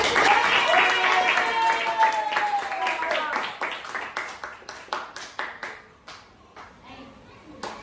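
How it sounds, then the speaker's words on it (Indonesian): A training group breaks into applause, a mix of clapping and voices at first that thins into scattered, distinct claps fading toward the end. "Ya tepuk tangan dulu."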